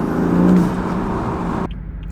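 A car's turbo spools under acceleration in comfort mode, a loud close engine roar with a rising whir that cuts off abruptly as the throttle lifts.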